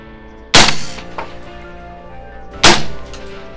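Two sharp rifle shots, from a TR 3 and an AR-15 firing 5.45x39 rounds into a can, crack loudly about two seconds apart outdoors, each followed by a short ringing echo.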